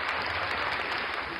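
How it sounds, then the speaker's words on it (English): A short burst of loud, dense applause for a co-host on the Two Bald Guys podcast, a continuous clapping wash with no pause throughout the moment. "Give him a round of applause."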